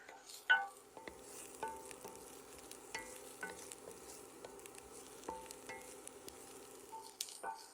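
Onions sautéing in a pan for Italian sausage stuffed acorn squash, a steady soft sizzle broken by repeated scraping stirs and light clicks of a utensil, close up with no talking.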